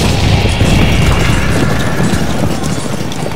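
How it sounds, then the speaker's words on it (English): Cavalry charge of Kellerman's cuirassiers against the British line at Waterloo in a war video game: a dense, steady rumble of hooves and booming battle noise, loud and continuous throughout, with no talk. "Kellerman's cuirassiers charge the British line."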